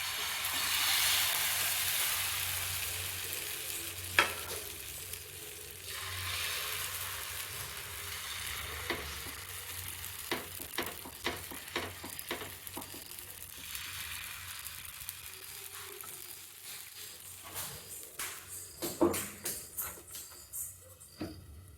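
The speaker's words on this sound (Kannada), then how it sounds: "ಕರೆಕ್ಟಾಗಿ ಬೇಯಿಸ್ಕೊಳ್ಳೋಣ ಎರಡು ಕಡೆ" Thalipeeth batter spread on an oiled dosa griddle in a home kitchen, with a broad hiss of frying that fades, then a run of quick scraping and patting taps as the batter is pressed and spread.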